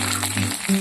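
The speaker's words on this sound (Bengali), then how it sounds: "রসুনগুলোকে এইভাবে লাল করে ভেজে নিতে হবে।" Garlic sizzling in hot oil in a pan, a soft frying crackle with a faint stir or rattle near the end.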